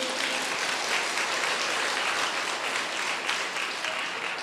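A crowd at a Buddhist sermon claps hands together, a thick, steady roar of applause from many people that stays even throughout.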